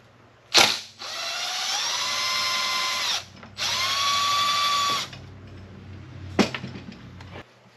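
A power tool removes a bolt from a Poulan Pro 425 chainsaw with a 65cc engine, giving two loud, close whirring bursts of a couple of seconds each, the second dropping in pitch, between sharp clicks and handling knocks.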